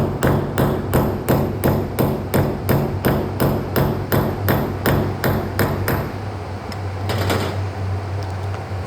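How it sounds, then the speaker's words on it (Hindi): Steady hammer blows driving fasteners into a wall while mounting a Samsung inverter AC stand, about a dozen evenly spaced sharp knocks, then a pause and a looser cluster of taps over a low constant hum. "फास्टनर को अंदर पल्ले लगा करके ठोक लेंगे हथौड़ी की मदद से"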